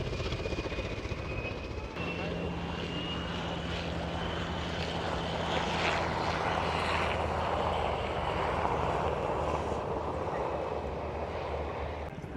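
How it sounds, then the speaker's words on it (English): A-10 jet aircraft and helicopters flying at the Miami Beach Air & Sea Show, a steady loud engine roar and whine filling the whole stretch with a rising tone, no talk. "Got the A-10 still flying around."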